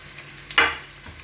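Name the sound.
onions sautéing in a pan for salna gravy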